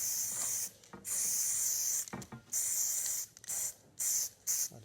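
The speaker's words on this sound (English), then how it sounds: "What I'm going to do is spray a bit of primer between the 2 layers." Spray can of primer hissing in short repeated bursts between the riveted layers of a Nieuport 11 replica aircraft fuselage, close and steady, each spurt about a second long with brief gaps.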